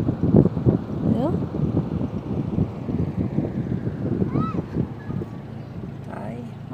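Strong wind at the beach buffets the microphone in a continuous low, gusty rumble that drowns out most other sound.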